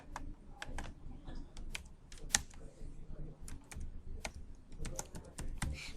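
Keys clack quietly on a computer keyboard as an email address and password are entered into a login screen, in irregular bursts of close, soft taps over low room hum.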